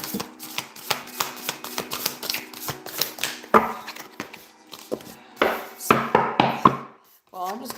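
A tarot card deck is shuffled at a card table in quick, papery bursts of riffling flutters and taps, close and fairly loud, with a voice briefly talking early on.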